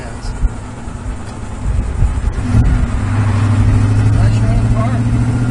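A 1966 Oldsmobile 442 convertible's engine runs steadily, a low rumble that builds and settles into a smooth, sustained drone, with faint voice-like noise in the background.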